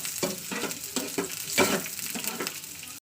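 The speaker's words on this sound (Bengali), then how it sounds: "তো তেলে আমি পেঁয়াজটাকে লাল লাল করে ভেজে নেবো" Chopped onions fry and sizzle steadily in hot oil, with a few louder stirring scrapes in the pan and no voices.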